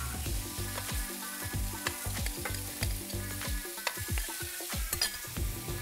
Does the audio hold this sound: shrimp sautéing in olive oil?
yes